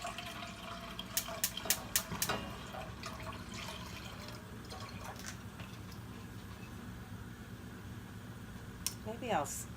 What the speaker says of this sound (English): I'm gonna pour it in the pot